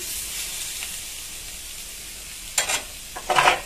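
Vegetable stalks scraped and stirred with a metal spatula in a dry wok with no oil, a faint hiss broken by a few short, louder scraping bursts near the end.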